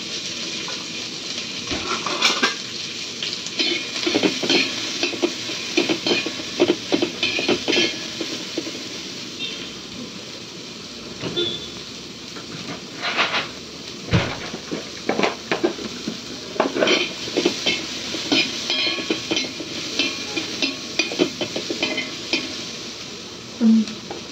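Green chillies and eggplant fry in oil in a pan, with a steady close sizzle broken by repeated scraping and stirring clatter against the pan.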